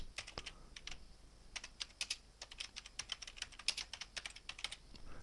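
A search being typed on a computer keyboard in quick, irregular bursts of soft key clicks, close and fairly quiet, with no talking.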